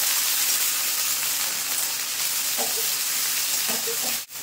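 Ground ginger, garlic and onion paste fries in a pan with a dense, continuous sizzle, a few soft stirring scrapes near the end and one sharp knock at the close.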